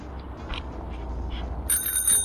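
A bicycle bell rings briefly near the end, bright and close, after a stretch of steady outdoor traffic or wind noise from a rider on a bike lane.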